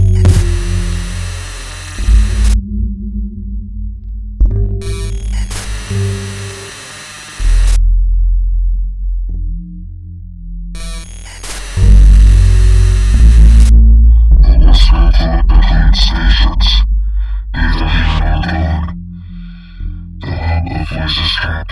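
Distorted electronic hum and static bursts for a séance effect, heavy low drones switching on and off in blocks, then crackling broadband noise building over the second half, loud and with no speech.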